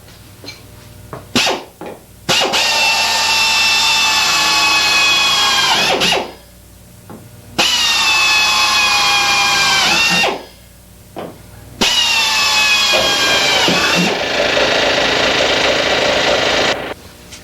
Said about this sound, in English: Drill a couple holes right on the inside of this crease.